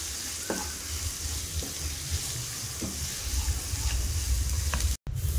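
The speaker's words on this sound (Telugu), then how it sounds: "ఇప్పుడు ఫ్రై అవుతున్న ఆనియన్స్లోకి కొంచెం కరివేపాకు, కొత్తిమీర కూడా వేసుకొని ఫ్రై చేసుకోవాలి" Onions frying in a pan with curry leaves and coriander for an egg onion fry, a steady close sizzle with occasional stirring scrapes throughout, no voices.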